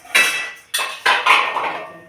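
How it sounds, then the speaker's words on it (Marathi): Dishes, pots and steel utensils being washed clatter loudly and close by: four sharp clanks, each fading quickly, with no voices. "थोडे मगाशी जरा घासून टाकली ना भांडी"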